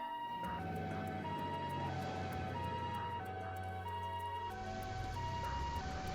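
Ambulance siren in the video game Trails to Azure, a steady two-tone wail repeating evenly, fairly faint and continuous with a low vehicle hum beneath.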